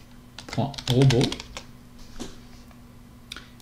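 Someone types a file name on a computer keyboard with a short burst of quick clicking keystrokes and a few scattered taps, partly under someone speaking French nearby.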